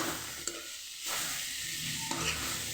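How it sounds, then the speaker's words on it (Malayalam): Banana flower thoran being stirred as it fries in a pan, a steady sizzle with a few scraping strokes of the spoon, close and fairly quiet, no voices. "പോകുമ്പോൾ നന്നായി ഇളക്കി കൊടുക്കുക"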